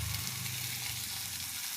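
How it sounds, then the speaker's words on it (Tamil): Food sautés in a pan while being stirred, salted and turned in a home kitchen, giving a soft, steady sizzle at low level with no voices. "நல்லா வதக்கணுப்பா."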